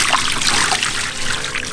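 Water runs and trickles steadily over a giant stone fish as it is washed after being cut open, a continuous close splashing flow with no talking.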